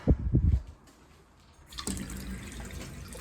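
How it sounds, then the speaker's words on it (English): Tap water runs steadily in a community room, a broad rushing flow that starts after a few low knocks and continues at a moderate, close level. "the water now is flowing once again in the community room, so you can wash your hands"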